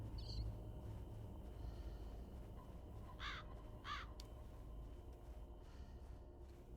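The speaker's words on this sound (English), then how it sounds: "Bird sounds. Gotta have bird sounds." Crow caws in a video game's ambient soundscape, two clear harsh calls close together midway, plus a fainter call early on, over a quiet low background hum.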